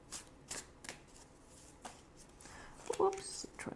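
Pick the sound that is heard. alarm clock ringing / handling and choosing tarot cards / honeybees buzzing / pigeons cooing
handling and choosing tarot cards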